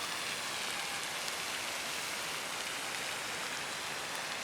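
Steady rain falls outdoors on a cotton farm, an even broadband hiss of drops on surfaces that continues without a break at moderate loudness, with no talking.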